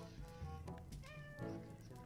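Soft cat meows from the video game Little Inferno, two or three drawn-out cries heard quietly and alone.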